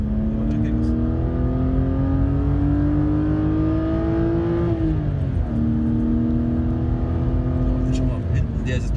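Porsche racing car engine on the Nordschleife, a steady, loud high-revving whine climbing in pitch, dropping sharply at a gear shift, then rising again, heard close as a continuous drone.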